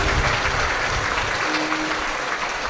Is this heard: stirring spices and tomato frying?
no